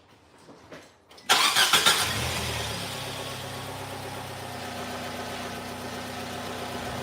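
Car engine being started after oil was added as a fix for oil burning: a brief cranking burst catches into a revving start, then settles into a steady, moderately close idle running on its own.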